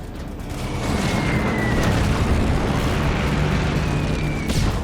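Bombs exploding during the air attack on Pearl Harbor at Battleship Row, a continuous loud roar of blasts and rumbling destruction with a faint whine of aircraft across it.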